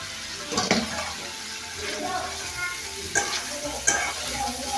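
Small fish dropped into a pan of frying spice paste, a burst of sizzle with stirring scrapes, steady frying hiss throughout and a few sharper clinks.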